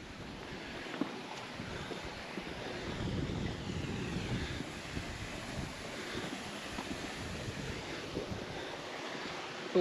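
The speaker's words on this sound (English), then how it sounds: "Little runoff from the lake." Steady broadband rushing of runoff water flowing from a lake, continuous and fairly close, with no voices.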